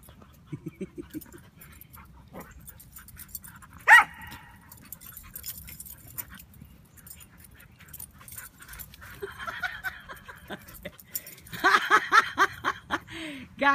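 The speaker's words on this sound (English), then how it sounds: "Hey, Bluey, you don't need to bark" Two playful puppies yip and bark in short bursts, with a sharp jangle near the middle and a busier cluster of yaps toward the end, mostly fairly quiet and close.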